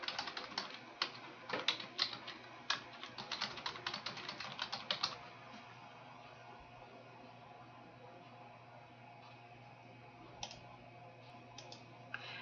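Rapid clicking of fingers typing on a computer keyboard in short bursts, then the keystrokes thin out to a few scattered taps over a quiet hum.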